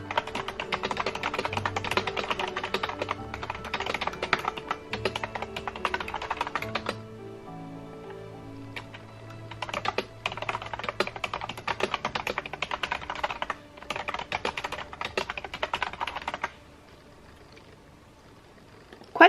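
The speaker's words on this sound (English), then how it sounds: "I really wanted one of those cloud keyboards." Rapid, soft clicky keystrokes on a cloud-style keyboard bought from Amazon, typed in bursts with short pauses between, close and fairly quiet in a calm indoor setting.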